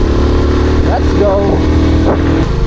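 A motorcycle rides a curvy, banked mountain road, its engine droning steadily and close, with rising pitch sweeps and wind noise. A voice is faintly present under the engine.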